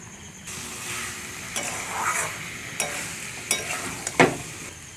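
Chicken curry meat fries and is stirred in a pan, giving a continuous close sizzle broken by several sharp scraping and clanking strokes of the spoon against the pan.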